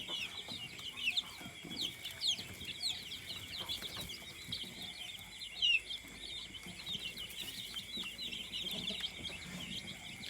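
Young chicks about one to two weeks old cheep in a thin, high, continuous chorus inside a poultry farm brooding pen, fairly faint over a low background hum.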